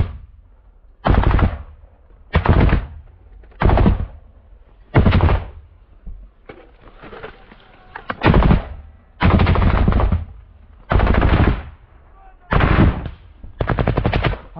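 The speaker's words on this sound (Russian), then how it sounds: "Автомат, автомат, автомат!" Loud, close bursts of automatic rifle gunfire come in about ten separate rapid-fire volleys, each lasting roughly a second, separated by short pauses.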